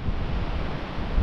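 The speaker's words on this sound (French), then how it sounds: "le vent s'est bien levé là" Strong wind buffets the microphone outdoors at a marsh nature reserve, a steady low roar with gusty rumbles and no voices.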